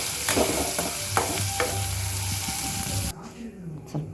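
Mustard seeds, chana dal and urad dal sizzle and crackle in hot oil while being stirred for upma, a close steady frying hiss with scraping stirs that cuts off abruptly partway through.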